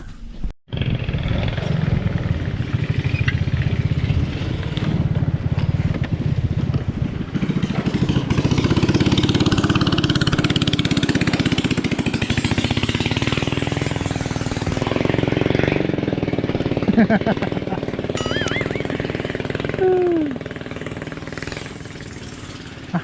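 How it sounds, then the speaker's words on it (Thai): A boat engine drones loudly and steadily nearby during a freshwater fishing trip for giant snakehead, rumbling continuously for the whole stretch. "เรือมาแล้ว"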